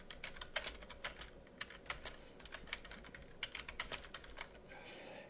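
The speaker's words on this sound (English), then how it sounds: "I'll type in, this is important" A message being typed on a computer keyboard: fast, irregular clusters of light key clicks run continuously at close range, quiet overall with no speech.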